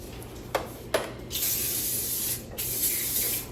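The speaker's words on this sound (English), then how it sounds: "Here's the spray I use, if I can reach over. This is the Andis Cool Care Plus." Andis Cool Care Plus spray hisses onto clipper blades in two short taps followed by two longer sustained bursts, close and fairly quiet against a low background hum.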